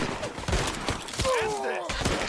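Gunfire in Red Dead Redemption 2 during a forest shootout at enemies up in the trees: a rapid string of sharp shots mixed with shouting voices and whistling, loud and close.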